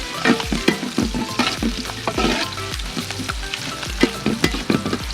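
Coconut pieces fried with ginger and garlic in a pan for Kerala-style beef peralan give a loud, continuous sizzle broken by frequent close spatula scrapes and stirs, with no talking.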